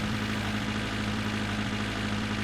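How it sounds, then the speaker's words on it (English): Steady idling car engine in the video game The Long Drive, a continuous low droning hum with strong low tones, even and unbroken throughout. "I just love that each car has its own engine sound."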